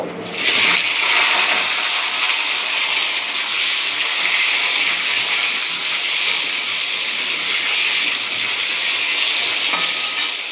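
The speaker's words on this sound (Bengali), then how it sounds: "এই যে গাঁটি কচু আলু কেটে ধুয়ে রেখেছিলাম সেটা আমি ভেজে নেব" Cut, washed taro root pieces frying in hot oil in a wok, giving a loud, steady broadband sizzle that runs unbroken throughout.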